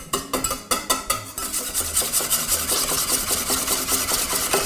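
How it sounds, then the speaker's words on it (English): Egg yolks being whisked by hand in a bowl for a malva pudding, a steady rapid scraping and clinking rhythm of the whisk against the bowl, close and continuous, with a few sharper knocks at the start. "And now you whisk the egg yolks."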